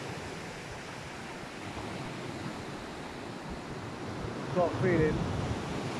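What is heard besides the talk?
waves and surf rolling in at the sea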